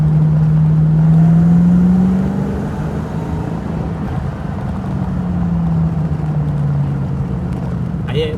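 A V8 car engine drones loud and steady while cruising on roads in the Derbyshire Peak District, its deep rumble rising and easing slightly with throttle, heard from inside the car.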